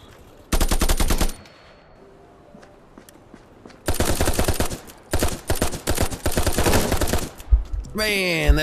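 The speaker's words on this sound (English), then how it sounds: "Man, where am I getting shot from now?" Rapid automatic gunfire in the Contractors VR first-person shooter game, loud bursts of machine-gun fire around 0.5–1.3 s and sustained firing from about 4 to 7.5 s, with brief talk near the end.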